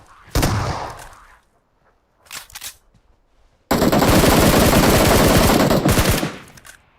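Shotgun gunfire in the video game Valorant: a loud blast, a short pair of shots, then a long roaring stretch of heavy, dense firing that cuts off abruptly.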